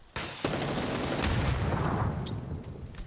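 In the shooter game PUBG, a flashbang and grenades go off during a fight: a sharp bang, then a second burst swelling into a rumbling boom that slowly fades, fairly faint overall.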